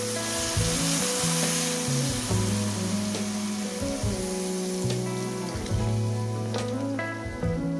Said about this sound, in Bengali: দেখো গাইস, পেঁয়াজ আর লঙ্কার সাথে এবার আমি ভাজা মাছগুলো অ্যাড করলাম।